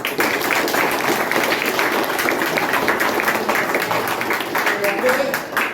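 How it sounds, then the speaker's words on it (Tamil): Students in a government boys' higher secondary school hall clap during an opening ceremony, a dense, steady patter of many hands mixed with crowd murmur and voices. "கைத்தட்டவே வேணாம்"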